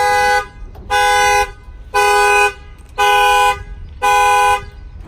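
A Ram pickup truck's factory alarm horn honks five times in a slow, even rhythm after the tailgate closes, each blast loud and sustained for about half a second with short pauses between.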